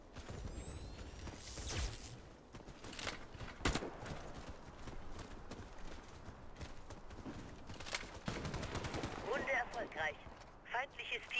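Gunfire in the online shooter Warface during a clan match, bursts and single shots rattling through a busy, noisy mix of game effects.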